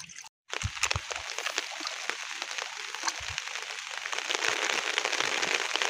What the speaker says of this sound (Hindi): बारिश भी चालू